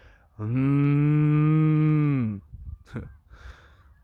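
One long, close cow moo holds steady for about two seconds outdoors in a quiet rural setting, followed by soft breathy rustling.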